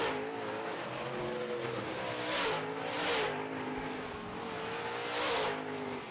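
Late model race cars circling an oval track in a heat race, engines droning steadily with rising and falling passes as cars sweep by, loud and sustained with no voices.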